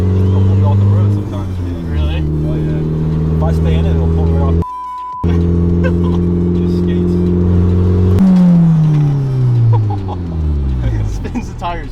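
A car fitted with a Valvetronic Designs exhaust accelerates with a loud, close, droning engine note whose pitch climbs steadily and then rises sharply near the end, with people talking over it and a brief dropout midway.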